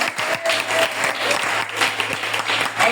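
A church congregation breaks into sustained applause, steady dense clapping filling the room for the whole stretch, loud and continuous with no talk over it.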